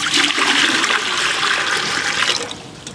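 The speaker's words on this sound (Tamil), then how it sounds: "தண்ணி ஊற்றிட்டு நல்லா கொதிக்க விட்டுடலாம்." Water gushes and splashes as it is poured into a cooking pot to boil for cauliflower biryani in a village kitchen, a steady rushing pour that tapers off at the end.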